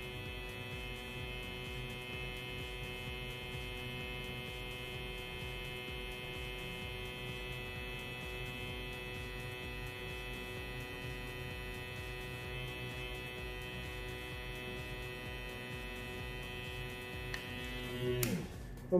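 A WMARK NG108 rotary tattoo machine on a full charge runs close by with a steady, even electric hum and whine for the whole stretch, ending in a brief sharp knock.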